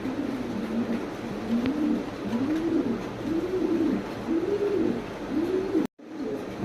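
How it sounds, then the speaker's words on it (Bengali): Giant Homer Andalusian colour pigeons coo in a steady series of about six low, rolling calls over a soft background hiss. The calls are close and moderately loud, then a brief dropout cuts in near the end. "অনেক সুন্দর এবং বিগ সাইজের কবুতর।"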